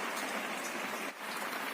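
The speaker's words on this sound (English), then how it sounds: "we need to wait for this rain to stop" Steady rain pours down in a dense, hissing patter, continuous and fairly close with no voices.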